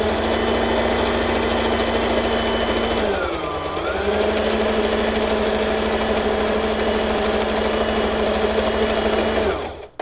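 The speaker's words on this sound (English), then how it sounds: "We're going to do a straight stitch." A Brother XL 2600i sewing machine runs a straight stitch at middle tension, a loud steady whir that dips briefly near the middle and then stops abruptly at the end.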